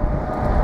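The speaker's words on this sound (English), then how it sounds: "Super windy up here." Strong wind buffets the microphone while riding a SUPER73 RX electric bike across a high bridge, a steady loud low roar filling the short moment with no talk.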